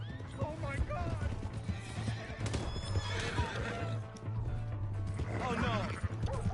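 A horse neighs and whinnies, with hooves clip-clopping, in the Red Dead Redemption 2 video game; several loud, close neighs rise over busy galloping and scuffling, with people shouting over it.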